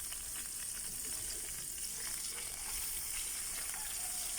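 Hot oil sizzling and crackling steadily in a pan while pinakbet vegetables fry, a dense, continuous hiss with no speech over it.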